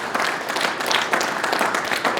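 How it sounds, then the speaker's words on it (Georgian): An audience at a talk conference applauds fans, giving a short burst of dense, steady clapping from many hands throughout, with no talk. "აპლოდისმენტები გამას გულშემატკივარს."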